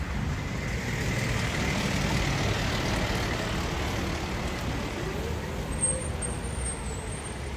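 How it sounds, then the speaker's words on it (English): A garbage truck drives through a city park in fall, its low engine rumble steady and moderately distant, with a faint high squeal near the end. "Guess they allow garbage trucks in here too."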